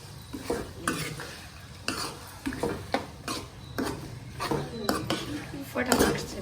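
Spiced food is stirred briskly in a metal cooking pot, with repeated loud scrapes and clanks of a spoon against the pot over a steady sizzle, the rhythm quick and uneven.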